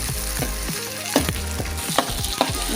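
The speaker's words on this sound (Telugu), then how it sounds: "బాగా గోల్డెన్ కలర్లో వచ్చేటట్టు వేయించుకోవాలి." Onions, dry red chillies and curry leaves fry in hot oil for a tempering for Andhra tamarind chutney, giving a steady close sizzle with crackling pops and a few stirring scrapes, without any talk.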